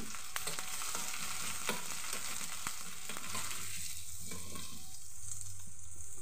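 Mustard seeds and chopped onion fry in coconut oil in a pan, a steady close sizzle broken by sharp popping crackles and occasional stirring, with no voices.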